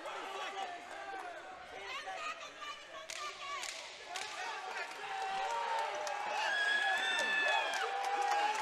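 Crowd on its feet cheering and applauding at an Aries Fight Series MMA bout, a dense roar that builds louder in the final seconds, with sharp whistles and shouts on top.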